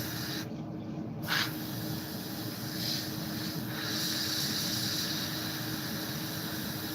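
A steady hiss of spray runs throughout as a model kit of an A-4 is spray painted, with a brief louder high burst near the start, then continuous broadband airy spraying.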